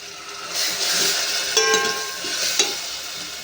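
Onion frying in hot oil for a fish curry, a bright crackling sizzle with a few sharp metallic clinks from a spoon against the pan, close and alone.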